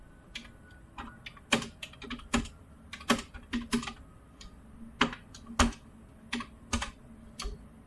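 Close computer keyboard typing while writing code, irregular bursts of sharp key clicks with short pauses in between, no talking.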